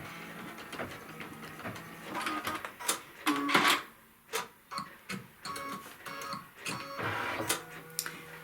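An embroidery machine sews a seam in a hoop, giving quiet rapid mechanical ticks and short bursts of stitching in an irregular rhythm.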